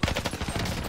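Rapid bursts of video game gunfire during a German-language shooter match, a few close, punchy shots in about a second, with dense crackling fire filling the clip.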